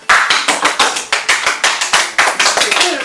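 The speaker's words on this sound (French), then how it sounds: "on peut vraiment l'applaudir" Audience clapping for a contestant on a spicy food challenge game show, steady rhythmic handclaps, loud and close, repeating evenly throughout with no talking.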